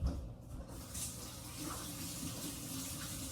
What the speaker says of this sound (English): Wash the hands as much as possible.